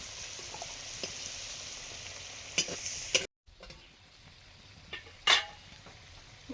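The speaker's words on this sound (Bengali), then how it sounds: "করলা ভাজা হয়ে গেছে, তুলে নিচ্ছি।" Fried bitter gourd in a pan with a soft continuous sizzle, a couple of sharp scraping stirs and clatters of a utensil, a short gap, then another scrape as the pieces are lifted out.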